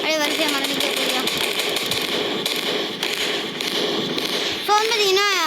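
Explosions in a train video game crackle and pop in rapid bursts throughout, like strings of firecrackers, with game sound effects chirping at the start and end and a voice talking over them.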